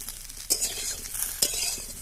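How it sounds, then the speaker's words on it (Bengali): Elephant foot yam pieces fry and get stirred in a pan: a soft steady sizzle broken by two sharp scraping strokes of a spatula against the metal, close and clear with no talk. "এইভাবে লাল লাল করে ওলগুলোকে ভেজে নিতে হবে"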